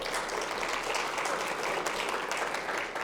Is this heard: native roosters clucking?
no